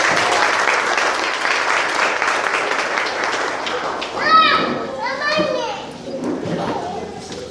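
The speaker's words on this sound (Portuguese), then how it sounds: "Aplaude o Senhor," Church congregation applauding during a worship service, brisk steady clapping with voices calling out over it, then brief cries and talk as the clapping tapers.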